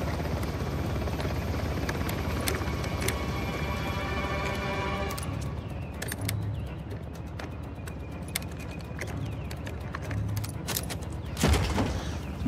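Helicopter in the video game Uncharted: The Lost Legacy, a loud continuous rotor drone with rhythmic blade chopping, joined by sharp bursts and impacts of combat toward the end.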